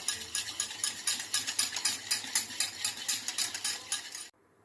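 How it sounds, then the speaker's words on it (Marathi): Gram flour being whisked into a yogurt mixture for alu wadi curry: rapid, rhythmic scraping and clinking of a spoon against a bowl, close and steady, stopping abruptly near the end with no talk. "आता याला छान मिक्स करून घ्यायचं आपल्याला."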